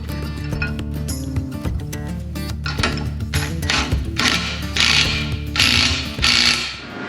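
Ratchet clicking while lower coilover mounts are tightened on a Jeep TJ Dana 60 axle, a steady mechanical rattle of rapid clicks with louder bursts of strokes toward the end, close up with no talk.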